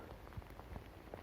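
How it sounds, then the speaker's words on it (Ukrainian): Steady rain pattering outdoors in a Finnish forest, a dense, even hiss of drops with a few louder nearby splats, continuous and fairly faint. "А дощ тим часом лупить."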